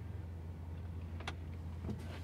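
Soft-close door on a 2023 Mercedes-AMG GT 63 S 4-Door pulling shut with a brief close whir and a muted thunk or two, heard over a steady low hum.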